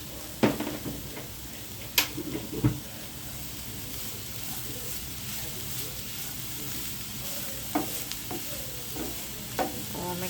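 Papaya pieces frying in a pan, stirred with a few scrapes and clinks over a steady low sizzle, close by and fairly quiet.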